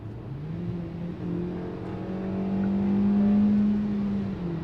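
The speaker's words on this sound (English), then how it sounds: "Nice and quick acceleration." Hyundai Exter in manual mode downshifting from fifth gear at about 70 km/h and accelerating hard: a steady engine drone whose pitch climbs and swells louder as the car pulls, heard from inside with no talking.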